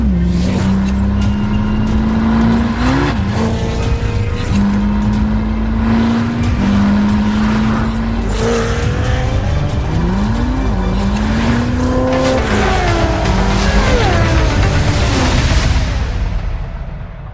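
A 2026 Chevrolet Corvette ZR1X engine drones loud and close, its pitch stepping up repeatedly through gear changes as it accelerates, then rising into a strained rev near the end.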